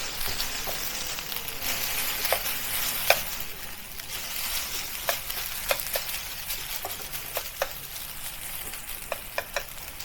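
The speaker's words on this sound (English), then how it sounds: "place the drained noodles into it and start to pan fry" Drained noodles pan-fry in a hot wok for crispy Hong Kong-style noodles, a steady broad sizzle running throughout, punctuated by light clinks and scrapes of a utensil shaping them.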